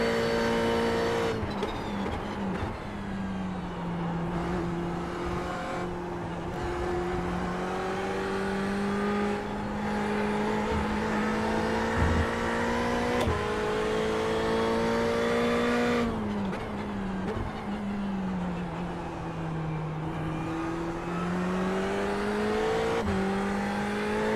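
A Ferrari race car in iRacing sweeps through Eau Rouge at Spa, its engine note holding a steady high drone that climbs and dips with gear shifts and throttle, loud and continuous throughout.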